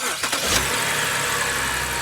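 A BMW X5 engine cranks and catches, settling straight into a loud, steady idle heard up close with no talking.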